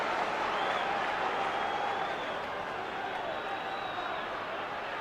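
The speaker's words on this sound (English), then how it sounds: "The big crowd trying to get behind Widnes, the British champions trying to urge them on, roar them on" A big stadium crowd cheers and roars steadily to urge on Widnes, the British champions, during the 1989–90 World Club Challenge rugby league match against Canberra, a broad sustained wash of noise throughout.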